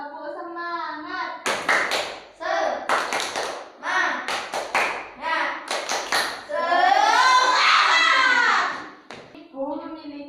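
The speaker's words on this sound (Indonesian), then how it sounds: "Tepuk semangat." Schoolchildren in a classroom perform a rhythmic spirit clap, bursts of loud unison claps in patterned groups alternating with chanted group voices, with a sustained chorus of children's voices near the end.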